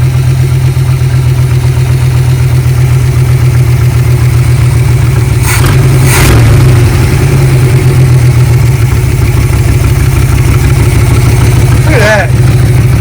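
A 1969 Chevy C10 custom pickup, pulled from a field and junkyard, runs with a loud, close, steady idle, punctuated by a few brief sharp revs midway and near the end.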